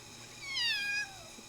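A single drawn-out meow from a small kitten, close and clear over a quiet background.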